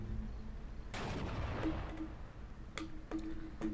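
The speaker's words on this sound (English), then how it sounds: "It's firing at this AT gun here." Sporadic gunfire from a Steel Division 2 battle, with one heavy burst and a few sharp shots that decay quickly against a steady background hum, with no voices.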